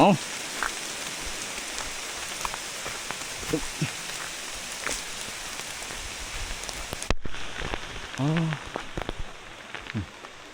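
Rain falls steadily on a wet, narrow bridge in a forest during a hunting trip, a soft continuous patter with scattered drops. A brief louder burst near the end, where the hiss cuts out and a voice briefly speaks.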